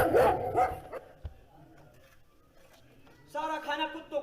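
Dogs bark in a couple of short bursts at the start, then again near the end, amid voices during a staged Hindi play.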